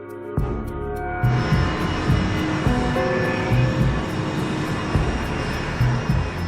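KLM and Pan Am airliners rumble steadily as they taxi along the runway, a loud, close, continuous engine drone with a rising whine starting about a second in.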